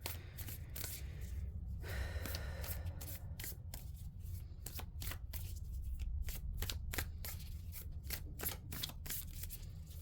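Tarot cards are shuffled close up in quick, crisp riffles and soft slaps that repeat steadily throughout, with no voices.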